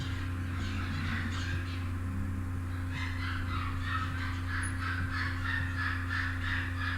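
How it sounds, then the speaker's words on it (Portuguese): Macaws squawk outdoors at a distance, a run of harsh, repeated calls that grow busier partway through, layered over a constant low electrical hum. "desculpe o barulho das araras"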